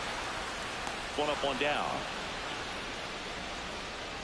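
Steady rain pours over the ballpark in the baseball video game MLB The Show 26, a constant broadband hiss filling the whole stretch, with a brief spoken announcement and crowd murmur over it.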